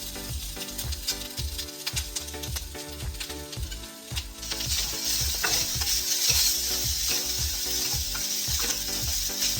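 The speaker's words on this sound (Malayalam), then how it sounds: "എല്ലാം നന്നായിട്ട് വറുത്തെടുക്കുക ഗോൾഡൻ കളർ ആയിട്ടുണ്ട്" Cloves, cinnamon, dried chillies and grated coconut roast in a little oil for a Kerala papaya curry, with a loud continuous sizzle and rapid rhythmic scraping of a spoon against the pan that grows busier midway.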